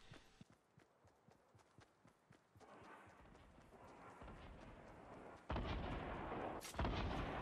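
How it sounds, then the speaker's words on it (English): Rocket explosions and weapon fire from a Fortnite high-explosive game mode, starting with rapid sharp blasts and building into dense, loud rumbling booms, with no voices heard. "He shot a rocket!"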